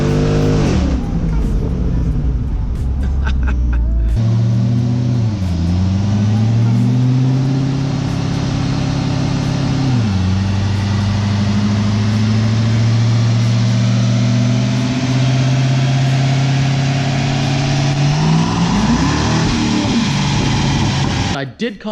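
Corvette drag car engine running close and loud, a heavy steady drone that rises and dips with several revs, climbing in pitch before settling back, with a voice talking over it at times.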